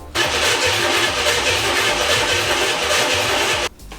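A starter cranks the engine of an abandoned project Jeep during a start test, giving a steady, loud, rhythmic churning that runs for several seconds without catching, then cuts off abruptly.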